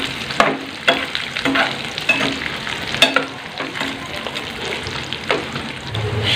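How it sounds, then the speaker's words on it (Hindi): Soaked, peeled almonds roast in desi ghee in a pan for sheer khurma, a steady sizzle broken by repeated spoon scrapes and clinks stirring the nuts, close and with no talking. "इसको थोड़ा भून लेंगे।"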